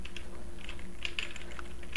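Keys clatter on an old computer keyboard during a fighting game, a quick steady run of clicks with a few sharper strikes, close and alone with no talk.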